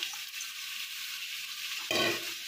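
Mutton being stir-fried with spices in a pan, a steady close sizzle that jumps louder near the end as yogurt-marinated ingredients hit the hot pan, no voices.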